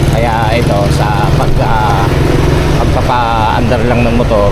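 A motorcycle engine runs loudly and close throughout, its steady rumble carrying under wavering voice-like tones that sound like talk or singing.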